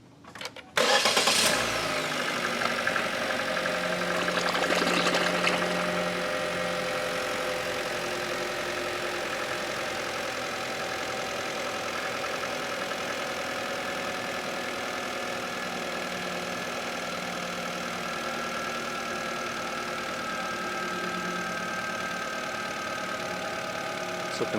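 A 2013 Chevrolet Spark engine cranks and catches, then settles into a steady idle with a constant mid-range hum and faint knocking texture, close and loud throughout.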